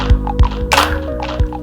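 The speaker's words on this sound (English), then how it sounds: "So if I just play this tape as it is with this delay setting," Tape playback from a Teenage Engineering OP-1 run through a high-feedback delay: thumping beats and taps repeat in quick succession, with a brighter noisy burst in the middle and echoing tonal smears, fairly loud and wordless.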